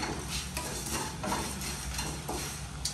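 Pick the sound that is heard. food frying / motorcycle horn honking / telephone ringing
food frying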